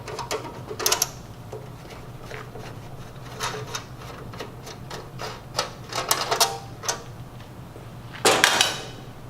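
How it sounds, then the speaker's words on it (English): Small metallic clicks, rattles and ratcheting taps as Phillips screws are removed from the bottom cover of a Star two-sided grill, irregular and close over a low steady hum, with a louder clatter near the end. "remove the 5 Phillips screws on the bottom cover and remove the cover."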